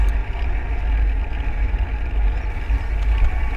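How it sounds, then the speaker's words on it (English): An e-bike's electric motor whines steadily and loudly, a continuous droning hum with a low rumble underneath and no talking. "the whining of the motor, which again seems far louder"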